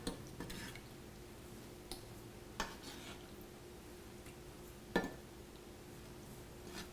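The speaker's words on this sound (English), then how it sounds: "What I'm going to do now is mix it and put it in a mixing bowl." Chunks of tuna being mixed in a mixing bowl, quiet scattered clinks and taps of a utensil against the bowl at an irregular pace, faint and close.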